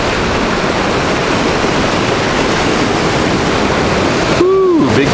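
Rough ocean surf churns and splashes loudly and steadily close by, a continuous broad wash of water near an underwater drone being tested from the shore, with no talk.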